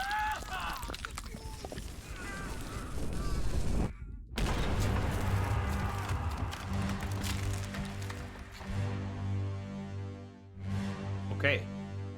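Exploding cannon in the video game Return of the Obra Dinn: a dense burst of blasts and crackling debris, loud and close, with a sharp cut and a later rumble, under game music and someone talking.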